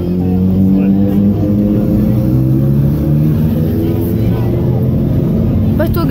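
A loud motorbike engine hums and revs steadily close by, its pitch shifting up and down, with a voice talking over it.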